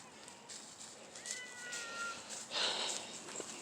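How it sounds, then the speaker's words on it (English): A few cats give soft meows indoors, faint and a little distant, over a quiet background hiss. "Except I've got cats crying."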